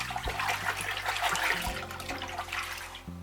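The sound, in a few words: water poured into a bowl of rice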